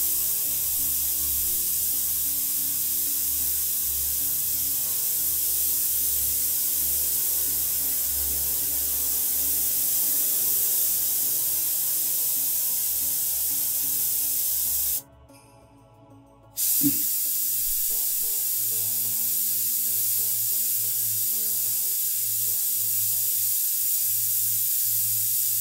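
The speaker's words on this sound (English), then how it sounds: "move the airbrush around." An airbrush spraying paint onto a canal boat model gives a steady, close, airy hiss that drops out abruptly for about two seconds and then resumes, with a low hum underneath and no talking.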